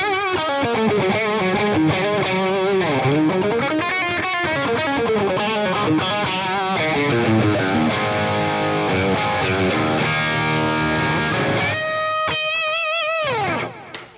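Telecaster electric guitar playing a sustained, singing lead line with heavy high-gain distortion from a tube screamer boost, bending and sliding between notes. It is loud and upfront, with no voices, and ends on held, ringing notes.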